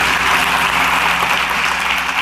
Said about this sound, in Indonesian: Mari beri tepuk tangan yang meriah untuk Tuhan Yesus.